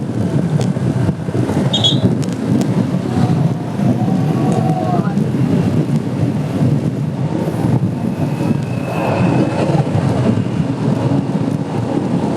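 A motorcycle rides at 65 km/h down a steep descent during a junior men's national road cycling championship race in Indonesia, with loud, constant wind buffeting the microphone and an engine roar underneath. A voice speaks over it.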